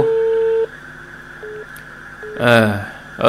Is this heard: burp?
no